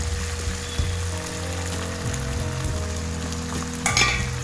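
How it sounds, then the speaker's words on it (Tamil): Ginger garlic paste and masala sautéing in a pan, giving a steady dense sizzle with a low mechanical hum underneath and a brief burst of louder crackling near the end. "இப்போ இந்த மசாலாவுக்கு தேவையான இஞ்சி பூண்டு பேஸ்ட்டை இதில் போட்டு நல்லா வதக்கிடலாம்"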